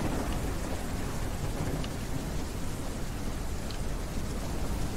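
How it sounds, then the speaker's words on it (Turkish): Heavy thunderstorm rain in the Ranch Simulator video game, a dense, steady downpour hiss that stays loud and unbroken throughout, with no voices. "Ya bu yağmur niye yaptırıyor ya?"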